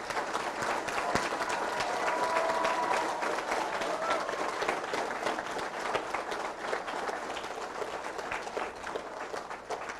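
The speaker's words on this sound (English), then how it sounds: "So please give them a round of applause." An audience at an amateur radio club event gives a sustained round of applause, many people clapping densely and steadily for several seconds, fairly loud throughout.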